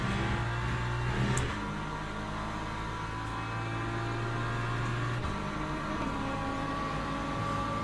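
An LMP3 race car engine in Le Mans Ultimate drones steadily at high revs, with a couple of abrupt pitch drops from gear shifts, loud and continuous with no talk.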